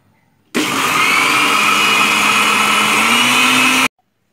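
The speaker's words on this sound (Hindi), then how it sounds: "अब इसको ब्लेंड कर लेती हूँ।" A blender whirs loudly and steadily while blending chilled yogurt and sugar into sweet lassi, starting abruptly, holding an even roar for about three seconds, then cutting off cleanly.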